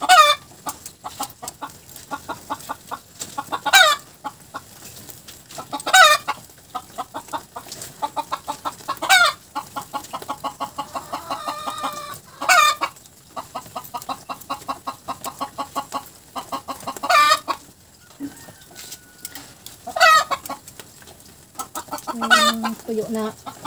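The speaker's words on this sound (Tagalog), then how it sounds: "Pasok sa pugad yung ating manok guys." Chickens clucking as they settle into their nest, a busy, close chorus of repeated clucks with occasional louder calls over a steady background hum, with brief voices now and then.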